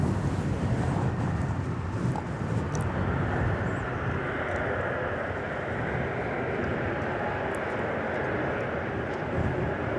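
Boeing 747 airliner at DFW Airport, a steady, loud jet roar filling the whole span with wind buffeting the microphone, heard from a plane-spotting position.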